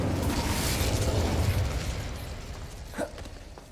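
Casting the Incendio fire spell in Hogwarts Legacy produces a loud whooshing burst of flame that swells, then fades into crackling, with a sharp pop near the end and no speech.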